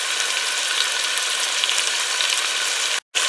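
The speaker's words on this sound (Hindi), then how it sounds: "अब हम इसमें कटे हुए टमाटर डालेंगे" Chopped tomatoes dropped into fried masala in a pan for chicken Sindhi biryani, giving a loud, continuous close sizzle of frying that runs steadily, with a short break of silence near the end.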